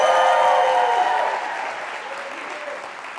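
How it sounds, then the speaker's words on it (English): A live audience at a talk applauds loudly and steadily, a dense wash of clapping that begins at full strength and slowly fades over a few seconds. "please applaud, cheer, and roar as loud as you can"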